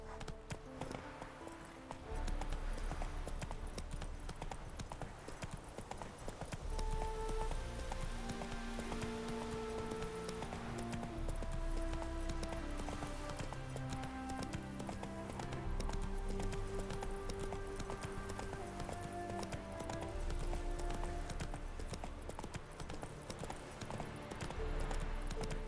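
Hooves of the horse Roach clip-clop in a steady galloping rhythm through The Witcher 3, running continuously beneath a swelling orchestral score that carries from start to finish.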